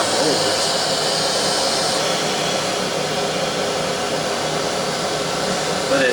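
Aspiron 1200W canister vacuum cleaner running steadily on hardwood floor with suction turned down, a loud continuous broadband whoosh throughout, with a brief surge near the end.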